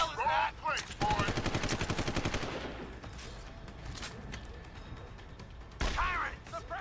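Rapid automatic gunfire crackles in Deus Ex: Human Revolution, a dense burst of shots ringing out with further scattered bangs and shouting voices around it, loud and close.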